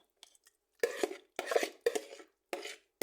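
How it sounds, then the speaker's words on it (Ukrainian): Four clattering thuds of chicken fillet being set into a glass baking dish, each a short burst with a brief scrape, spaced about half a second apart, close and fairly quiet. "викладаю це все"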